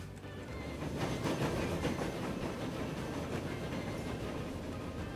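A train rolling along in the railway game Transport Fever, a steady rumbling hiss with rhythmic clickety-clack of wheels over rail joints, moderately loud and continuous, no voices.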